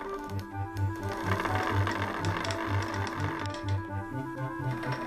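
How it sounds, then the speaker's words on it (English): A spinning wheel twisting wool slivers into yarn, a steady fast mechanical rhythmic clatter running continuously and close, with a whirring hum beneath. "You then stretch the slivers into yarn on a spinning wheel."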